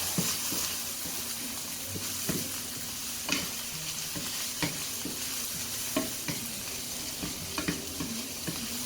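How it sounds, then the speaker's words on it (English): Rice fries in a pan for vegan mushroom risotto, a constant sizzle broken by irregular scraping knocks as it is stirred, close and moderately loud, with no talking. "Now let's fry this rice up a bit."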